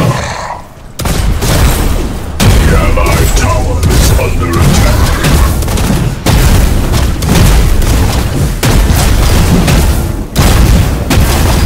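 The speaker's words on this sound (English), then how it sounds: "I'm ready to open the black hole" Sevarog opening a black hole in a video game, a loud, sustained roar of deep booming blasts and rumbling impacts, broken by a few brief dips, with game voice lines mixed in.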